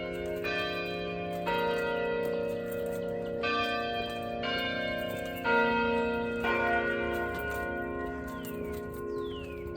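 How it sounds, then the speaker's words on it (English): Tower bells at Longwood Gardens in Kennett Square, Pennsylvania ring out in a series of overlapping, resonant strikes, each tone hanging and fading before the next peal, with no voices. "You can hear the bells going off right now."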